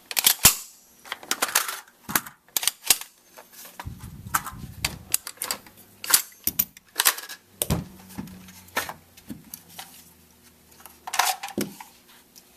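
An FN PS90 carbine is field stripped against the clock, a rapid string of sharp plastic and metal clicks, snaps and rattles from parts being pulled apart, close and alone with no talk.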